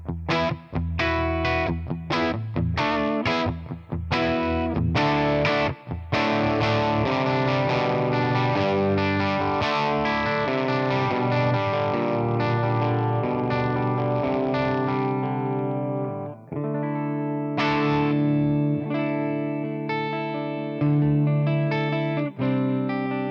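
Electric guitar played through a ToneX ONE Edge Fat amp model by amalgam captures rings out with thick distorted tone, first choppy stabbed chords, then long sustained notes and ringing chords, loud and alone.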